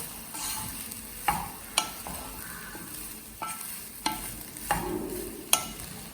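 Rice with parsley and oregano stirred in a pan on a sizzler dish with paneer and vegetables, a soft steady sizzle broken by about six sharp scrapes and knocks of the spoon against the pan, close and fairly quiet, with no talking.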